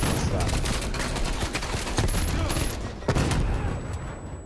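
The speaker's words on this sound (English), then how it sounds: "Shoot him in the back of the head and then watch my teammate get blown up like that." Gunfire from the Call of Duty: Cold War video game, with rapid overlapping shots and bursts in a dense, loud barrage and a sharp explosion-like thump near the end.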